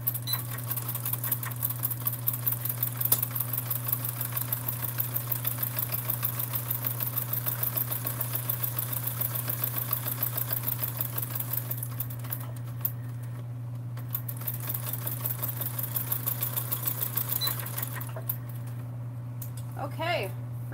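A sewing machine stitches a quarter-inch seam on a summer sling bag at a 3.0 stitch length, running as a fast, steady mechanical whir with a constant low hum for most of the stretch, pausing briefly near the end.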